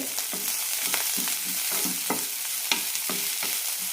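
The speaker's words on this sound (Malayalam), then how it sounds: "മുളക് ഈ സമയത്ത് തന്നെ ചേർക്കണം നന്നായി റോസ്റ്റായി കിട്ടണം" Dried red chillies roast in a pan for Palakkad-style tomato chutney. Quick rhythmic stirring scrapes over a continuous sizzle, close and fairly loud, with no talking.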